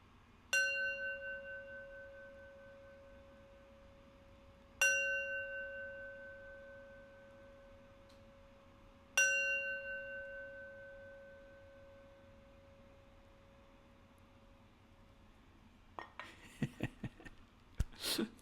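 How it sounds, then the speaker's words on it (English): A meditation bell is struck three times at slow, even intervals, each clear ringing tone decaying for several seconds in a quiet room, followed by faint rustling. "I'll close our practice with 3 rings of the bell."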